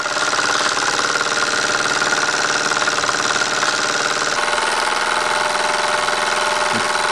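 A Wilesco D222 toy steam engine runs on live steam, giving a steady, fast mechanical chugging and knocking rhythm with a continuous hiss, close and fairly loud throughout with no voices.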